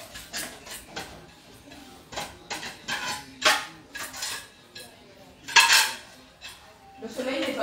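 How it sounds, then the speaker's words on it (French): Dishes and cutlery clink and clatter in a series of sharp metallic knocks and rattles, uneven in rhythm and fairly close, with a couple of louder clangs; voices murmur faintly in the background. "Je donne la vaisselle."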